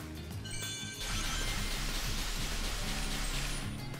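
Steady rain hisses in the Sonic Frontiers video game, a soft continuous wash that grows fuller after the first second, with faint game tones underneath and no talk.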